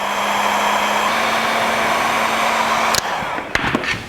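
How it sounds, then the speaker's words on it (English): A heat gun blows steadily for about three seconds with a loud whooshing hum, shrinking colour-coded heat-shrink tubing over a battery cable on a 1949 Chevrolet gasser, then cuts off, leaving a few faint clicks and handling sounds. "Put some color-coded heat shrink on it. And shrink it with our heat gun."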